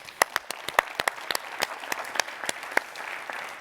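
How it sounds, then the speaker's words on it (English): Audience applause at a university community report event: sparse, distinct individual claps ring out sharply over a thin bed of lighter clapping, fairly close and moderately loud. "That's another round of applause, folks."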